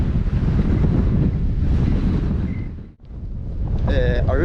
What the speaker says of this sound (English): obviously being this windy, it's torturous.